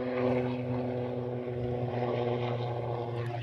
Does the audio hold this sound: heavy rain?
no